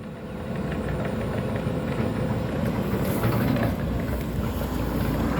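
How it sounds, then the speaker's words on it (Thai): A Volvo EC210B or EC200D excavator wades through waist-deep flood water off a paddy dike, its engine held at high revs as a steady, loud rumble mixed with water churning and wind noise throughout. "เร่งเครื่องเต็มที่เลย"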